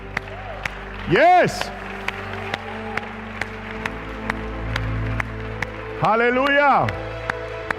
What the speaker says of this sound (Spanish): Den un aplauso de victoria.